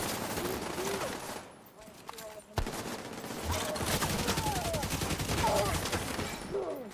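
Bursts of gunfire rattle through a firefight in The Division, dense and continuous across the scene with one sharp louder crack partway through, while a voice talks over the shooting.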